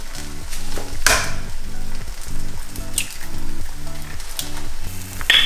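Egg for a Taiwanese omelet sizzles loudly in a pan, a close, continuous frying crackle with a couple of sharp clicks and spatters on top.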